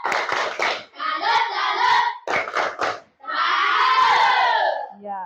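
Children do a rhythmic clap-and-shout salute together, bursts of sharp unison claps alternating with loud group cheering, close and energetic, ending abruptly.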